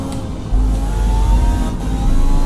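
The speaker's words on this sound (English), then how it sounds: "I'm sorry, I can't hear you over my engine." A vehicle engine revs in Battlefield 6, kicking in loudly after a brief lull and holding a strong, close, steady roar through to the end.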